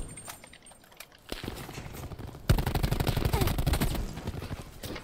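Gunfire in a multiplayer shooter video game, with a few sharp shots early, then a sustained rapid automatic burst of fast, evenly spaced cracks at moderate loudness, no talk.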